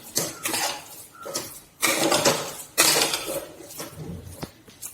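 Grated coconut stirred into jackfruit for puttu in a bowl, heard as scraping, clattering strokes in three distinct bursts with quieter gaps between them.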